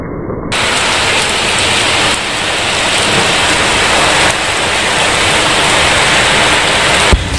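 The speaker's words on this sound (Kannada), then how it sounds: "ನೀವು ಮಳೆ ಬೀಳ್ತಾ ಇರೋ ಸೌಂಡು ಕೇಳಿಸ್ಕೊಬೋದು" Heavy rain pours down steadily and loudly near the listener, a dense continuous hiss that never lets up. There is no talk over it.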